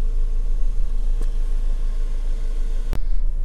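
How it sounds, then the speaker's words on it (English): A Ford Focus 1.8 Zetec petrol engine idles, heard from inside the car: a steady low hum with a faint tonal drone and a couple of sharp clicks, with no talking. "So sat in the car now, engine's running"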